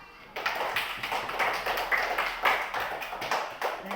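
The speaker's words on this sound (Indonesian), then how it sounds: "Tepuk tangan." Classroom applause from a group of students, a dense patter of many hand claps running steadily for several seconds after a brief quiet start, moderately close.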